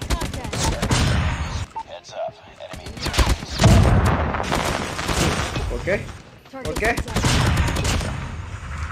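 M4 and ICR rifles fire in a mobile shooter game, with rapid automatic bursts crackling in several loud clusters separated by short pauses, while a player talks casually over the shots.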